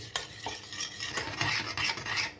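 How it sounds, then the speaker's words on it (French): A spoon stirs gelatin into an asparagus bavarois mixture off the heat, giving soft continuous scraping and swishing with light taps against the pot, close and fairly quiet. "égoutter ma gélatine, la mettre dedans, bien la mélanger"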